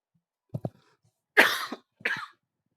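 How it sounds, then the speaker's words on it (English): A person coughs close to the microphone: two small throat sounds, then two strong, harsh coughs a moment apart in an otherwise quiet room. "I'm gonna cough."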